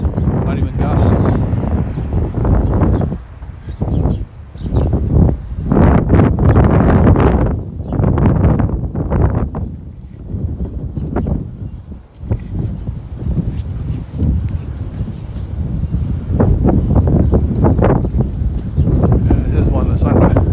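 Strong sustained wind buffets the microphone on a Back Bay street in Boston, roaring in loud uneven gusts that come and go throughout, with a person speaking at times.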